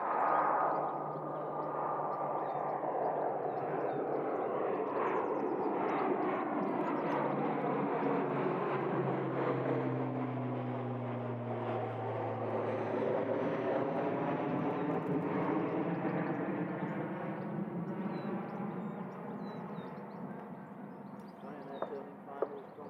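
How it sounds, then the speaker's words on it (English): A Ryanair airliner turning onto final approach at Leeds Bradford Airport gives a continuous jet roar whose pitch slowly sweeps down and back up as it passes, heard from a distance and fading toward the end. "Ryanair turning finals from England."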